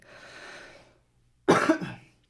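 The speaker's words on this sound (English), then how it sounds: "I think it's just a cough." A single person gives one short, harsh cough, heard alone after a brief stretch of faint breathy noise.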